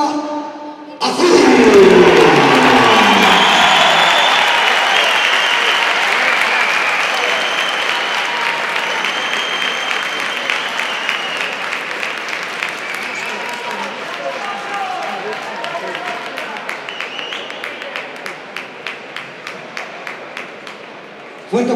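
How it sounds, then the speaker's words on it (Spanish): Loud crowd applause and cheering fill a boxing arena after a points decision in Santiago, the sustained clapping swelling early then gradually thinning, with individual claps standing out toward the end. "Fuerte aplauso"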